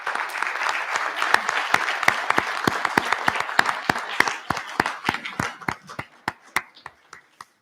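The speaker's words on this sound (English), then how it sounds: "So how about a nice round of applause for both?" Audience applause at a board of education meeting, sparse claps thinning out toward the end into a handful of sharp, separate hand claps.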